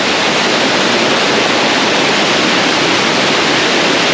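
Engkanto Falls in Libmanan, Camarines Sur pours in a steady, dense roar of falling water, loud and unbroken throughout with no voices.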